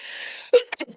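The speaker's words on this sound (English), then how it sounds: "I have to sneeze lately." A single sudden sneeze bursts out close and loud after a stretch of steady background hiss, followed by a few short breathy sounds and a low vocal murmur as the person recovers.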